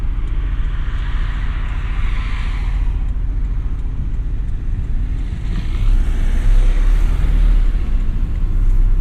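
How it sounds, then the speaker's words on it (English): A deep, bassy engine exhaust from a 2017 Porsche 718 Boxster S PDK tuned by MTM rumbles steadily throughout, swelling louder toward the end as the car accelerates nearby. "Right away you notice that the exhaust has a lot more bass to it."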